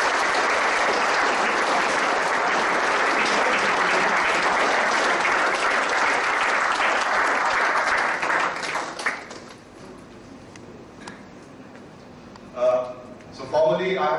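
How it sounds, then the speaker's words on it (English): Audience applause for guest speaker Mr. S.V. Nathan at a leadership series talk, a loud sustained round of clapping from a room full of people that fades out around nine seconds, followed by faint murmurs and a brief voice. "So again, a big round of applause for Mr. S.V."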